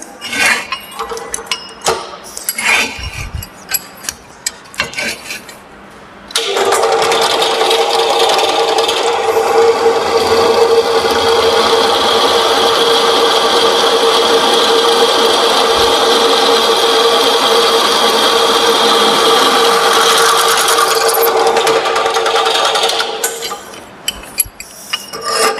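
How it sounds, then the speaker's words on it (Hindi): A drill machine bores a hole in a metal job with a taper shank twist drill, a loud steady whine and rattle that runs for about fifteen seconds after some clanks of setup, then stops. "ये जो होल है टेपर सैंक ट्विस्ट ड्रिल के द्वारा कंप्लीट किया गया है।"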